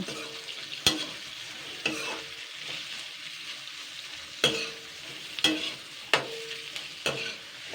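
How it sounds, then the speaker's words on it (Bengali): Sliced onions, about 300 grams for a fish roe dish, are stirred in a hot pan: a soft frying hiss broken by sharp scraping strokes of the spatula at an uneven pace, close by. "তো জাস্ট আমি এটাকে 2 মিনিট মতন হালকা নাড়াচাড়া করব।"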